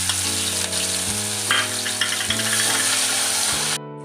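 Ginger-chili paste hits hot oil that already holds popped mustard seeds and asafoetida, giving a loud, close, steady sizzle with stirring scrapes before it cuts off abruptly.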